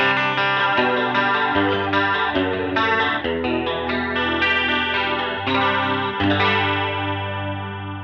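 Electric guitar played through a Boss CE-20 chorus effect pedal, a steady run of shimmering, sparkly chords and arpeggiated notes with a wide chorus wash, played alone and fairly loud with no talking.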